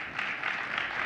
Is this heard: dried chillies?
no